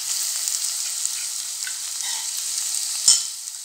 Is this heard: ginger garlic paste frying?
yes